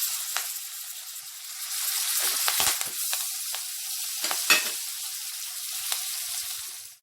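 Curry leaves crackling in hot oil with bay leaf, cinnamon stick, cloves and saunf, a steady close sizzle broken by sharper spitting pops and a few louder bursts, with no talking.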